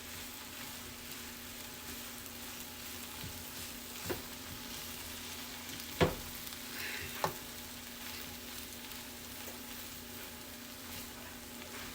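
Hash browns fry in a non-stick pan with a steady soft sizzle, broken by a few sharp scrapes and taps of a utensil stirring them. No one speaks.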